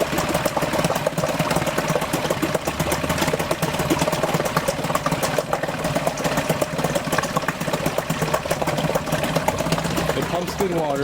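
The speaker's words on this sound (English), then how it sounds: "Here is a 4 horsepower Yamaha 2-stroke outboard motor." Yamaha 4 hp two-stroke short-shaft outboard motor running close up, a loud, fast, buzzy rattling idle that holds steady throughout, with someone talking over it.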